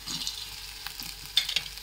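Mashed vegetables fry and get stirred in a kadai, giving a quiet, steady sizzle with soft scraping strokes and two sharper clicks near the end, with no talking.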